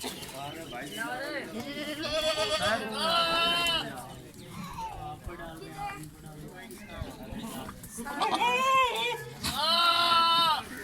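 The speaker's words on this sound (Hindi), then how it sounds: "ये मेरे पास अभी 50 बकरे खड़े हुए मेरे फार्म पे" Goats bleating on a goat farm holding about fifty animals, several loud wavering bleats overlapping in bursts, some near and some further off, with someone talking between and over them.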